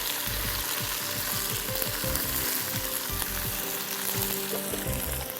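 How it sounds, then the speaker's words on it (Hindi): Fresh ginger and garlic sauté in hot oil in a pan for Kashmiri khatte baingan, giving a constant close sizzle with scraping, clattering stirring strokes through the first half. "अच्छी तरह पहले इसको सौटे करिए"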